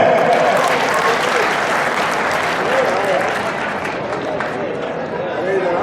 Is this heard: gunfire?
no